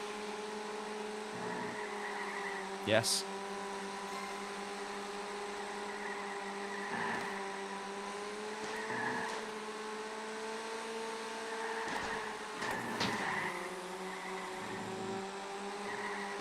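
A damaged race car in the iRacing game drives hard through laps, its engine holding a steady tone with repeated shifts in pitch, brief tire squeals and a few sharp knocks; a voice speaks one short word.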